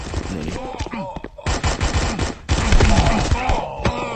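Guns of Boom gunfire rattles in rapid automatic bursts with brief pauses, loud and close, each stretch of shots running about a second.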